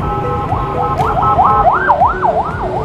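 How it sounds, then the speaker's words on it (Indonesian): A speeding ambulance siren wails loudly and close by, its tone sweeping up and down in a fast repeating cycle over a steady rumble of traffic. "Itu luar biasa banget tadi ambulan ngebutnya ya."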